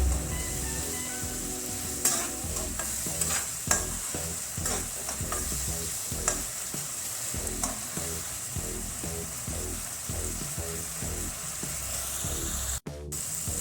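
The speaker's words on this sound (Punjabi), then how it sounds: "ਹਾਈ ਫਲੇਮ ਤੇ ਕਰ ਦੇਵਾਂਗੇ ਤੇ ਤੜਕੇ ਨੂੰ ਆਪਾਂ ਹੁਣ ਇਹਨੂੰ 5-6 ਮਿੰਟ ਵਾਸਤੇ ਪਕਾ ਲਵਾਂਗੇ" Tadka masala for a mixed vegetable curry sizzles hard in oil over a high gas flame, a dense, continuous frying hiss close by, broken by frequent scraping stirs of the spoon, with no voices.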